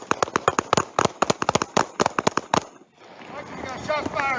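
Police gunfire aimed at Denzel Taylor: a rapid volley of sharp, loud shots, about four and then a long string of many more in quick succession, cut off abruptly and followed by agitated shouting voices.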